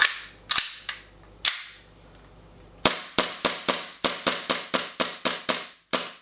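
WE P226 and P228 gas blowback airsoft pistols fire a run of sharp, snappy cracks, a few spaced shots first and then a quick steady string of about a dozen, close and loud with no talking.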